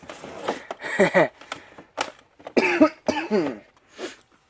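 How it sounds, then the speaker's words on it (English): A person coughs repeatedly, several harsh, close coughs in uneven bursts separated by short pauses. "Sorry about all the coughing"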